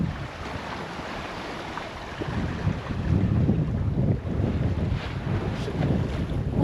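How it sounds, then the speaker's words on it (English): Strong wind roars in a continuous, gusting rush over a sailboat at sea off Baja California, with wave wash and hull noise underneath and no voices. "The wind came back."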